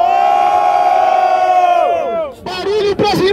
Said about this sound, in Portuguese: Barulho pras rimas do Tatu